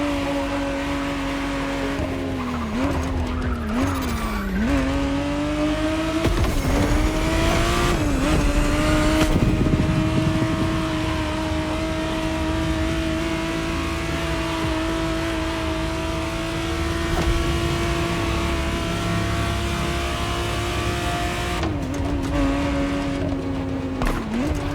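A 1991 Ferrari Testarossa's engine driving in the racing game The Crew Motorfest, a loud continuous drone with a few quick pitch dips and rises early on before holding a steady tone, with no talk.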